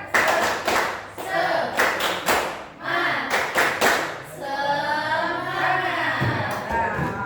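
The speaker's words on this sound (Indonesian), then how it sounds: "Tepuk semangat dulu. Tepuk semangat." A classroom group claps in a rhythmic pattern of sharp, quick bursts, mixed with voices chanting along in Indonesian.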